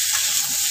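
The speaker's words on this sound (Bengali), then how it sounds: "আলুগুলো আমি ভেজে নেব" Potatoes fry in a little mustard oil in a wok, giving a steady, close sizzle with a bright crackling hiss that holds evenly throughout, with no voices.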